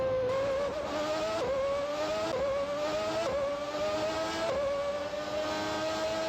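A race car engine from Grand Prix 4 screams steadily at high revs, its pitch climbing through each gear and dipping briefly at roughly every second as the car upshifts, loud and close with no talk.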